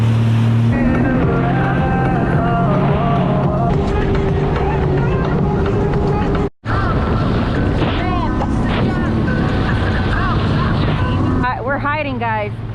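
Jet ski (Sea-Doo) running across choppy bayou water near Morgan City, a loud continuous engine roar with heavy wind buffeting the microphone, a brief dropout midway and slapping water toward the end.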